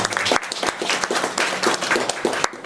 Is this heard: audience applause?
yes